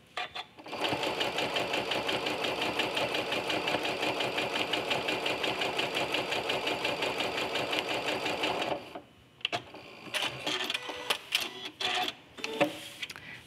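A sewing machine with a walking foot stitches quilt lines in a fast, steady mechanical chatter for about eight seconds. It then stops, leaving a few clicks and handling noises.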